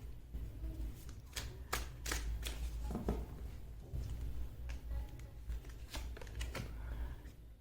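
Tarot cards being shuffled and drawn by hand, a soft papery riffle and flicking with scattered crisp snaps over a low room hum, close and fairly quiet, no talking.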